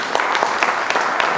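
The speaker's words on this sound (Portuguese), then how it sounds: "Vocês podem aplaudir Jesus?" A church congregation applauding, a fairly loud steady patter of many hands clapping with a few sharper claps standing out.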